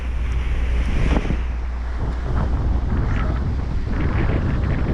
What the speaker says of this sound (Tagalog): Maalon ang karagatan mga amigo.